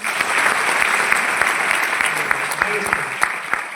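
Applause from an audience at a success-story gathering in Bhagalpur, Bihar: steady, dense clapping from a crowd running throughout, fairly loud and close, with no clear speech over it.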